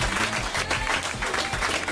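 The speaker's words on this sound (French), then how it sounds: "Ces applaudissements valent aussi pour Sylvie et Jérôme" A studio audience applauding at a French television comedy show, dense continuous clapping that stays loud and even throughout.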